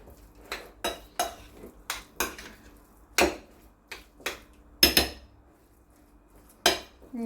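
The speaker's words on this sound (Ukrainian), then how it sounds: "Треба гарно вимішати." A utensil knocks repeatedly against a bowl in an uneven rhythm, sharp close clinks while a pie batter with sour cream and mayonnaise is mixed, with quiet gaps between strokes.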